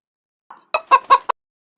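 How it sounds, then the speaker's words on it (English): A hen on a porch gives a short series of four close, abrupt clucks, the last one clipped, with silence around them. "Hen is coming on the porch."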